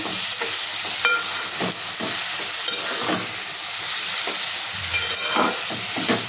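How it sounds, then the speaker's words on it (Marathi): Liver and pumpkin frying with spices and being stirred in a pan: a loud, continuous sizzle with repeated scraping stirs every second or so, close up and without speech. "मसाल्यांमध्ये कलेजी पेठा छान मिक्स करून घ्यायचे आपल्याला।"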